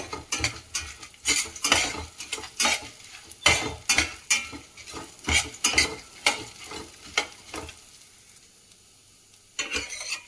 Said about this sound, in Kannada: ಕಂದು ಬಣ್ಣ ಬರೆಯುವವರೆಗೂ ನಾವು ಇದನ್ನು ಫ್ರೈ ಮಾಡ್ಕೋಬೇಕು.